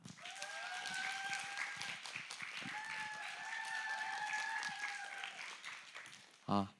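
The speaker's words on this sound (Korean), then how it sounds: "환호와 감사의 박수로 맞이하도록 하겠습니다" At a youth worship service, a church congregation greets an invited guest speaker with steady applause and cheering. Tonal whoops ride over the clapping, which ends in a sharp close sound.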